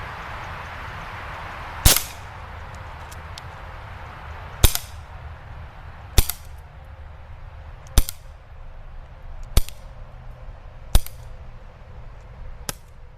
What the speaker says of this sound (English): first target is at 25 feet. I'll be firing 12 shots